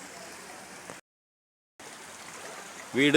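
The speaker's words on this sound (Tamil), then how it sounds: "எங்கள் வீட்டு வழியாக தான் தண்ணி வடியுது." Floodwater runs through a house in a steady watery rush, cut by a brief silent gap before the flow resumes, with a short sharp noise at the end.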